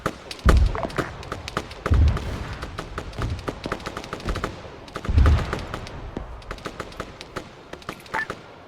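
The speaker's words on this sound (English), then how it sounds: "Are friendlies dropping mortars really close to us, or that enemy artillery?" Heavy mortar explosions in an Arma 3 combat scene land as several deep, booming thuds close by, scattered over a steady crackle of distant small-arms gunfire.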